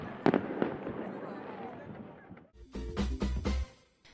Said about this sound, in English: A magnificent fireworks display lit up the sky over the Shannon and perfectly capped off the weekend's festivities.